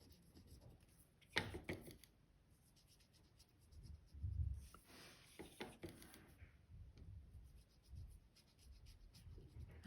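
A coloured pencil shades a stamped paper card in gentle, close scratchy strokes, soft and irregular with small taps and rubs between them and no talking.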